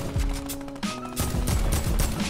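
Automatic AK rifle fire in a first-person shooter video game, loud sustained bursts over dense in-game noise, with a brief break partway through before the shooting resumes.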